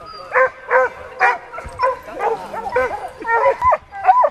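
A hunting dog on a wild boar trail gives a loud, close run of rhythmic yelping barks, steady and insistent, with no talk over it.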